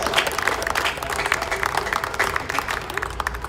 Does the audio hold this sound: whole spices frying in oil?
no